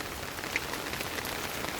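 Steady rain falls on a cloudy day, an even close hiss of drops striking surfaces with no other sounds.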